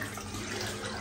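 A tap runs water in a steady, continuous hiss and splash, close by and moderately quiet, with no voices.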